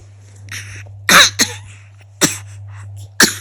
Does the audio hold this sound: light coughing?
yes